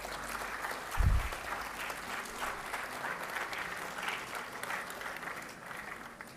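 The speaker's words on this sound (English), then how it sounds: "A round of applause for Tanmay" Applause for a student honoured as best library user at an institute foundation day lecture, fairly faint and distant, a steady patter of many hands after a single thump.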